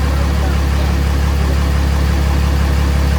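A 6.7 Cummins diesel swapped into a second-generation Mega Cab truck idles just after its first start, a loud, deep, steady rumble with constant vibration and no pauses.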